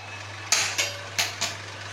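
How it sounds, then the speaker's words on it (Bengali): A metal wok is set down on a kitchen stove with a few sharp clanks and scrapes, four distinct metallic knocks in quick succession over a low steady hum, with no one talking. "এবার আমি কড়াই বসাবো।"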